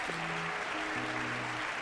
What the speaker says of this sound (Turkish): Harry Kane alkışlanıyor